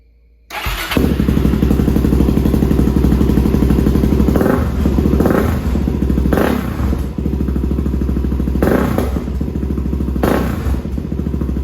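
A Suzuki DRZ400SM motorcycle engine starts and runs loudly up close, idling with a steady rumble while the throttle is blipped several times.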